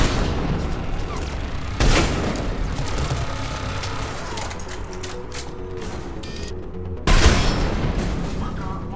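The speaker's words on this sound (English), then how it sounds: "Explosions, chat?" Sharp, loud explosions burst twice amid a busy background of rumbling and mechanical clatter, each blast standing out above the steady noise, in the video game Mass Effect 3.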